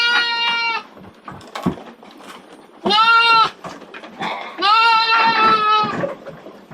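Garut sheep and lambs bleat loudly in a barn, several drawn-out calls close by with quieter rustling and small bleats in the pauses.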